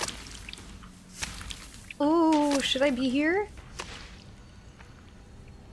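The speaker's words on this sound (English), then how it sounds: "That's something dripping there." Liquid dripping in a dark cave area of the fantasy role-playing game Baldur's Gate 3, faint intermittent drips under ambience while someone speaks, then eerie warbling tones.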